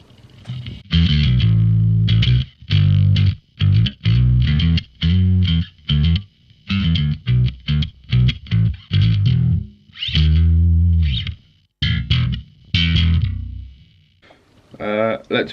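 An electric bass runs through a Darkglass B7K Ultra with the high end boosted and the low end cut, giving a bright, driven tone in choppy bursts of phrases separated by short silences, loud and close.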